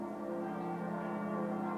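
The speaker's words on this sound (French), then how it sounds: "C'est un peu perturbant les cloches là." Cathedral church bells ring with a steady, sustained tone and a long resonant hum, heard alone without speech.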